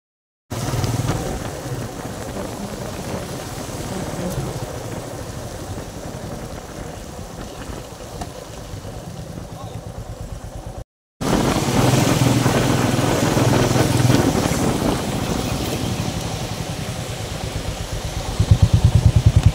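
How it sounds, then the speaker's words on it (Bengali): A motorcycle ride through rain around Shillong, with steady engine drone and road and rain noise throughout, a brief dropout midway, then a louder rumble toward the end. "চল, এই যে আমরা সবাই বৃষ্টিতে ভিজে বাইক রাইড করে"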